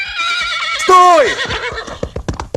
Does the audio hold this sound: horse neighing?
yes